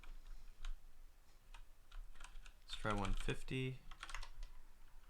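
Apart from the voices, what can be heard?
typing on a computer keyboard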